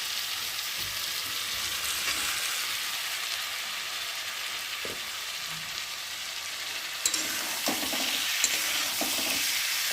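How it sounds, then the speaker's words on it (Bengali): Soybean curry stir-fried in a pan, a constant close sizzle with spatula scrapes and clinks growing busier toward the end, no voices. "এখন ভালো করে কষাবো। আর এর মধ্যে ভেজে রাখা সয়াবিনটা ঢেলে দেবো।"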